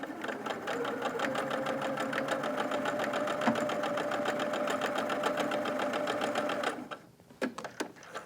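A sewing machine runs steadily as it stitches a quilt border, a fast even chatter of needle strokes that continues without pause for most of the clip before stopping, followed by a few soft handling clicks.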